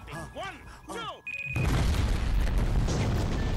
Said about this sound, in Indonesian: Bom meledak keras tanpa korban jiwa.